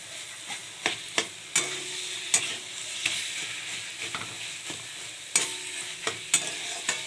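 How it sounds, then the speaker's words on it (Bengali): Dried red chillies and nigella seeds tempering in hot oil, a soft steady sizzle broken by sharp irregular pops and crackles as the spices spit, close and fairly quiet, no talking. "শুকনো লঙ্কা, কালো জিরে ফোড়ন।"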